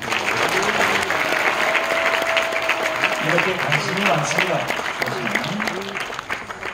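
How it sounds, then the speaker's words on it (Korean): A crowd at a founding ceremony for a YouTuber union and news agency applauds visiting officials from the presidential office and National Assembly. The dense, steady clapping fills the room while someone talks over it. "이분들에게 박수 한번 보내주십시오"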